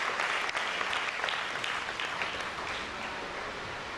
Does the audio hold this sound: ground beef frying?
no